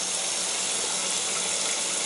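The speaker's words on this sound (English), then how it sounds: "You can see when you got the water running," Water runs steadily from a leaking Price Pfister kitchen faucet, a continuous close hiss and splash with no voices.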